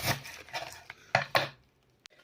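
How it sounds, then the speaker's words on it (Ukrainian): A knife cuts through young cabbage on a board in a few quick, crisp chops, two sharper strokes near the end, then a faint clink and quiet. "шинкуємо капусточку. Капусточку я взяла молодесеньку, нашинковуємо її"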